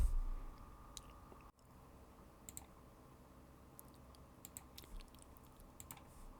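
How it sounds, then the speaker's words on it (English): A single key press on a computer keyboard, faint and brief against a quiet room hum, followed by a few scattered light clicks. "I can delete it with the delete key on my keyboard."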